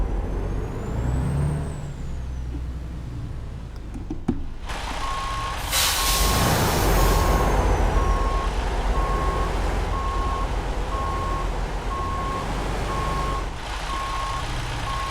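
Steady electronic reversing beeps from a truck in American Truck Simulator, repeating evenly for most of the stretch over a continuous diesel rumble, with a loud hiss like an air-brake release partway through.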